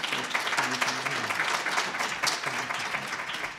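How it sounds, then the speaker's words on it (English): An audience claps for the presenters at a PACE event on student outcomes in California, a steady dense round of applause lasting a few seconds, heard from within the room. "give the presenters a big round of applause"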